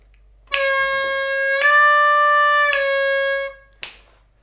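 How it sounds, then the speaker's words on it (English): A harmonica plays a sustained 4-draw note that starts bent and is then released upward, a bright, clear tone held about three seconds, close and alone, followed by a short breathy puff. "I'm hitting that 4-draw bend first, and then I'm releasing it up to a 4-draw"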